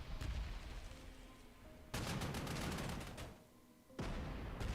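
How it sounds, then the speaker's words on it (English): Artillery fire in the Panzer Corps 2 strategy game, a dense roll of booming gunfire in repeated bursts, loud and close, with short lulls between volleys. "we'll go ahead and hit them hard with artillery"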